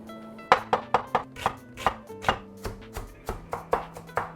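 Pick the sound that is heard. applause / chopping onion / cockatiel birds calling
chopping onion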